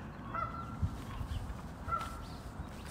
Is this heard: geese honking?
yes